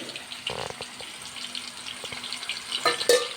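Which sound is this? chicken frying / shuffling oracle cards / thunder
chicken frying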